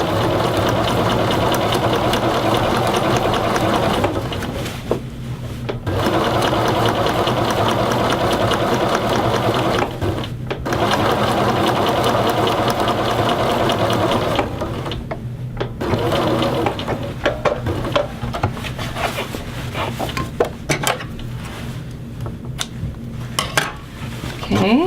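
A sewing machine runs in long, steady bursts while edge stitching along a men's shirt yoke, loud and close, with brief pauses between runs.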